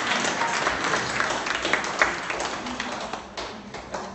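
An audience claps for a student during an engineering college session, a short burst of scattered applause filling the room at moderate volume with a few louder individual claps.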